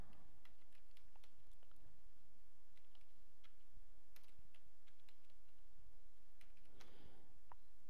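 Fingers type on a computer keyboard while entering text into an Excel spreadsheet, producing quick, irregular key clicks in short bursts, close and fairly quiet, with no talking.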